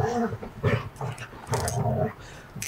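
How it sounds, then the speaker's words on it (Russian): Dogs playing and growling outdoors at a taiga cabin during a barbecue, rough growls and yips coming in bursts close by, with a voice faintly mixed in. "Тут собаки разыгрались у нас."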